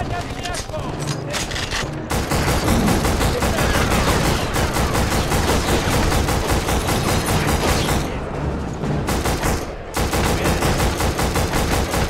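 Dense, sustained gunfire from a PS2 war shooter (Black), loud and nearly continuous for the whole stretch, with brief dips before bursts resume; no voice breaks through the barrage.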